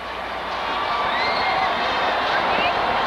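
A record crowd of 23,000 roars and cheers inside Araneta Coliseum, the Big Dome, at a UAAP basketball finals game, a dense, steady wall of shouting and whooping that swells slightly and never lets up.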